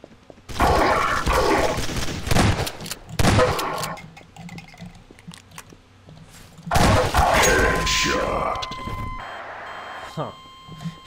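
Shotgun blasts in a Garry's Mod team deathmatch roleplay server, a few loud sharp booms in separate bursts with clattering game noise and electronic tones between them, a voice talking over parts of the action.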